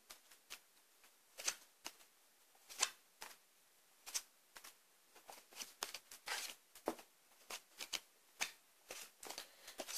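A deck of tarot cards being shuffled by hand, a quiet, irregular series of crisp riffling bursts and soft slaps close to the listener, with no talking.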